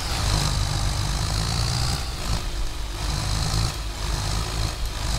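Tractor engine in Farming Simulator 22 idles with a steady, loud low rumble and continuous hum, holding at an even level throughout with no talk.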